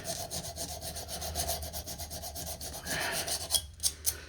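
Emery cloth rubbing corroded copper battery terminals with a nickel coating on a 2008 Pontiac Torrent, a steady rhythmic back-and-forth scrubbing up close, ending in a few sharper strokes.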